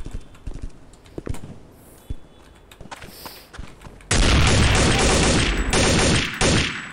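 M4 rifles fire in Counter-Strike Condition Zero, starting with scattered sharp shots and clicks, then breaking into a loud, sustained burst of heavy gunfire that runs to the end.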